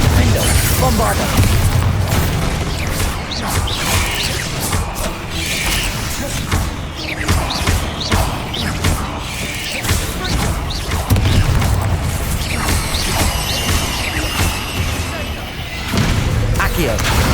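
Bombarda and Confringo spell explosions in Hogwarts Legacy combat, repeated loud booms and crashing blasts in a continuous, busy fight mix, with a voice shouting spell names throughout.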